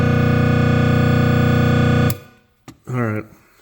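A 1974 ElectroMotion Pong/Hockey cocktail table arcade game gives off a loud, steady, buzzy electronic tone for about two seconds, then cuts off abruptly. A voice speaks briefly afterward.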